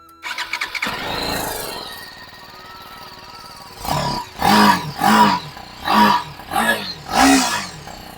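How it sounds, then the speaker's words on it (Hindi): A BMW motorcycle's starter whirs briefly before the engine catches and settles into a low idle, then five sharp throttle blips rise and fall in quick succession, close and loud. "तो यहाँ पे सबसे पहले BMW स्टार्ट करते हैं।"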